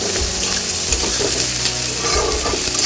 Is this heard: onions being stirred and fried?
yes